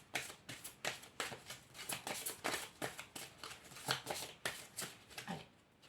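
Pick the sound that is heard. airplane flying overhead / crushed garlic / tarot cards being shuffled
tarot cards being shuffled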